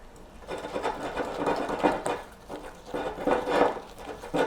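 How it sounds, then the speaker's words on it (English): A mixture is whisked in a bowl, quick rhythmic scraping strokes rising and falling in bursts, close and fairly loud with no speech. "Whisk that together."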